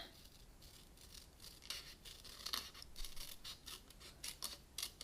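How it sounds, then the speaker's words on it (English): Scissors cut along the top line of a Post-it note to make a small mask for a shaker card. A quiet, close run of crisp snipping and rustling continues steadily with no talk. "And I'm going to peel this off, and then I'm going to cut along this top line."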